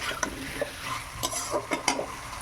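An egg sizzles in hot oil in a pan while being stirred, steady frying hiss under scattered scrapes and clinks of a utensil against the pan, close up, no voices.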